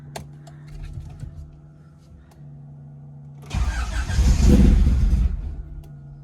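A Honda CRX engine with an upgraded cam, running a base map, cranks loudly for about two seconds without catching, after a stretch of quieter background rumble.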